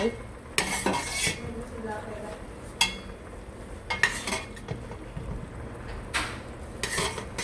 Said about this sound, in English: I'm just going to take it out, put it in another bowl.